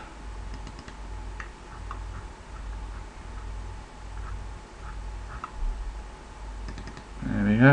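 Computer mouse clicks while working in the Unity editor, a few scattered, soft, close ticks over a low hum, with a voice starting at the very end.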